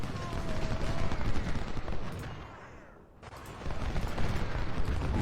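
Dense musket volleys crackle continuously in the Civil War strategy game Ultimate General: Civil War, a loud, rolling fusillade with a brief lull midway before the firing swells again.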